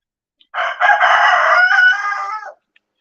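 A speckled rooster crows once nearby, a loud, full cock-a-doodle-doo lasting about two seconds against otherwise quiet surroundings.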